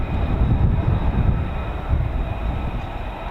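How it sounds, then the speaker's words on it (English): An F-35B stealth fighter jet taxiing and approaching to land at RAF Marham in the rain, heard as a steady, loud, broadband engine roar and rumble that holds throughout without a break. "We've got aircraft taxiing, we've got an aircraft coming in"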